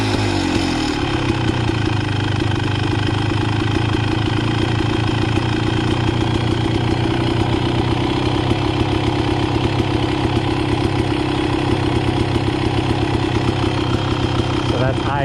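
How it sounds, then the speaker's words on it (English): X-Trainer dirt bike engine idling high in neutral, a steady buzzy drone that holds constant for the whole stretch, close and loud, with no voices over it. "So that's idling"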